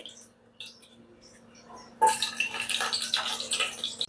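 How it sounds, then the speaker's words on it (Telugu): Butter goes into hot oil in a pressure cooker pan. After a quiet start, a sudden loud sizzle and crackle bursts out about halfway through and keeps going to the end. "ఇప్పుడు అదే ఆయిల్లో కొంచెం బటర్ వేసేసి"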